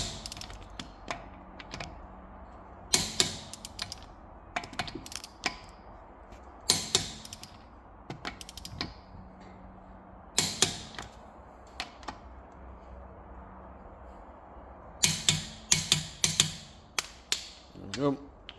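A torque wrench set to 120 newton metres tightens the wheel bolts on a 2018 VW Polo, giving sharp mechanical clicks and ratcheting in scattered bursts with pauses between each bolt.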